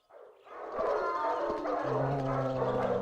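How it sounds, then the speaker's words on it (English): Dog barking and howling in the Silent Hill 4 video game, a loud continuous mix of barks and howls that grows after a short quiet start and holds steady. "It's a dog."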